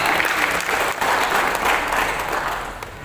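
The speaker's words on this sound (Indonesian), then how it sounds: "Tepuk tangan." An indoor crowd at a district government coordination meeting in Sumedang claps loudly and steadily for about three seconds, the applause fading slightly at the end.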